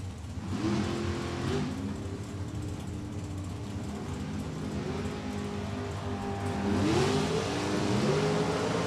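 A drag race car at an NHRA event accelerates hard down the track, its engine roaring steadily with rising pitch sweeps as it pulls away, loud and continuous with crowd-like wash beneath.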